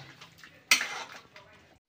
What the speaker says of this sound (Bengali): টক দই দিয়ে একটু কষিয়ে নেব